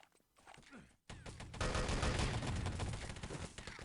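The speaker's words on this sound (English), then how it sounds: "And there is more artillery there." Artillery strike explosions in the shooter game Enemy Territory: Legacy: after a brief quiet patch, a heavy roar of blasts and crackling gunfire erupts and keeps pounding at steady loudness.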